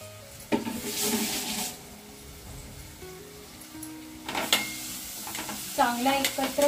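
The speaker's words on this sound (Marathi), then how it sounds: "तर आता हे बघा मी पूर्ण आता एकत्र करते हे." A spoon stirs roasted dried shrimp (jawla) in a pan with a soft sizzle and scraping, in intermittent strokes at close range and moderate loudness.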